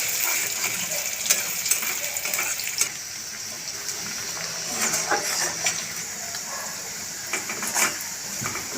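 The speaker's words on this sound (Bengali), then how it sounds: "সাথে রসুন নেড়ে ঝেড়ে ভেজে নেবো আদা রসুনটাকে" Garlic and ginger frying in hot oil with chopped onion for restaurant-style dal fry, stirred in the pan: a steady, close sizzle with scattered scraping and clicking stir sounds throughout, no talk.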